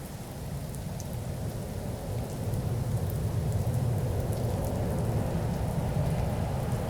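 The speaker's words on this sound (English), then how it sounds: "It's raining" Steady rain in a Boeing 737-800 flight simulation on approach to Paro, Bhutan, a dense constant hiss over a low rumble that swells slightly partway through, with no talk.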